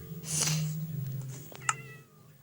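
A single drawn-out Minecraft cat meow, clear and close, followed by a short higher chirp and faint quiet background.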